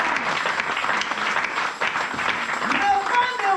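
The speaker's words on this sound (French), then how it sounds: "acclamons la parole de Dieu" A church congregation breaks into sustained applause, dense clapping filling the room steadily, with voices heard over it.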